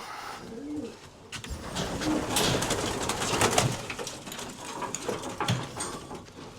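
Pigeons coo softly and repeatedly over a busy background of rustling and faint mechanical noise, with no talking.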